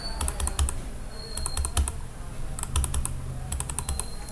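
A computer mouse clicks in quick pairs and small clusters while text is being edited in Microsoft Word. The sharp, close clicks repeat in several bursts over a steady low background hum.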